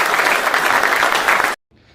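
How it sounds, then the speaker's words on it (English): Studio audience applauding loudly and steadily for about a second and a half at a live sports talk show taping, then cutting off abruptly to near silence with a faint trailing murmur. "Let's clap it up for him."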